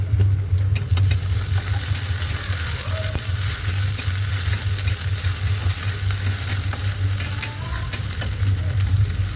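Chicken pieces with ginger garlic paste fry and get stirred in a pan for chicken kosha, a steady close sizzle with scraping stirs and a low hum underneath throughout.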